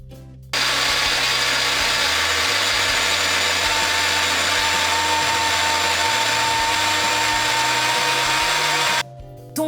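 An electric blender whirs loudly and steadily for about nine seconds while mixing a creamy hair mask, starting and stopping abruptly with a constant high motor whine.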